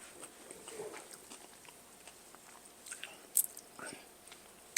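Quiet, close biting and chewing on a crispy jackfruit birria taco with sunflower seed queso, with soft crunches scattered over a few seconds and a couple of sharper crackles near the end.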